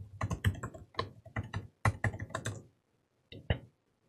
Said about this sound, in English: then I'll type in the password